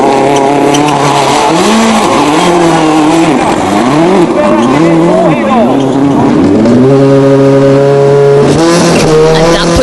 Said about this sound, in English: And here is Henning Solberg in the Peugeot 307 of the OMV Norway team.